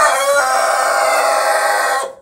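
A big rooster kept with hens in a backyard poultry run gives one loud, close cock-a-doodle-doo crow lasting about two seconds, clear and alone.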